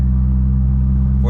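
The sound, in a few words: Mitsubishi Lancer Evo car driving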